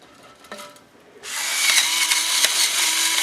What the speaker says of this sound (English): And then we put it in the pepper grinder.